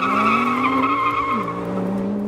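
A BMW E60 M5 with a V10 engine and aftermarket rear exhaust, holding a steady high-pitched wail with rich harmonics, nearly constant pitch that dips briefly and recovers, loud and close.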